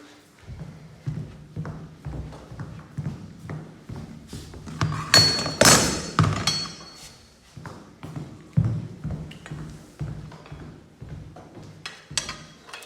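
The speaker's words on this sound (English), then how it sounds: "Give it a tap in 3 or 4 phases along your edge" Hammer and tapping tool knock hybrid flooring planks into place during an indoor install, a run of sharp thuds and taps in short bursts, fairly close, with a louder cluster midway.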